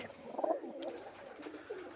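Domestic pigeons coo softly in a home pigeon loft, a few low, rolling coos that come close together, faint and close by, with quiet room noise between them.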